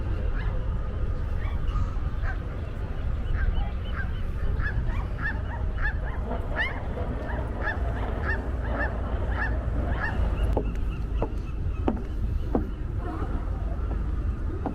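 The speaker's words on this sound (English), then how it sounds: "there were sea lions and seagulls nearby" Repeated honking, barking calls from sea lions mixed with seagull cries in San Francisco, continuous over a loud, rushing outdoor background.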